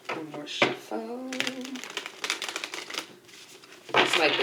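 Rapid papery riffling of tarot cards being shuffled, a few quick bursts close by, with someone talking over and between them.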